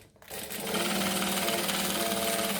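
A sewing machine top stitching fabric an eighth of an inch from the edge runs as a steady, fast, loud mechanical whir after a brief quiet start, continuing alone without talk.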